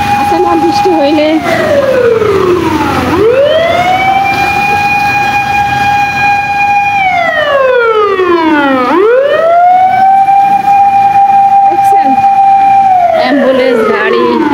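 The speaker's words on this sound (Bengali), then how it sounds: "অ্যাম্বুলেন্স গাড়ি সব চলতেছে" Ambulance sirens wail loudly along a rainy street, rising and falling in long sweeping cycles that dominate the scene, close and continuous.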